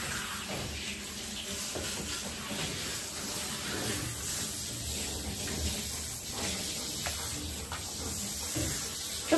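Water spray rinsing a golden retriever's coat during grooming, a steady close hiss that runs unbroken from start to finish with no talk over it.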